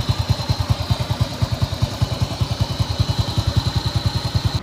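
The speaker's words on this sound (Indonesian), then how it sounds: "kita sudah panasin semua motor yang ada di rumah" Motorcycles idle in a home garage while warming up, among them a BMW, a Honda Tiger and a Honda Astrea Prima, with a steady, rapid low thumping pulse and a faint whine above it, close by and without talk.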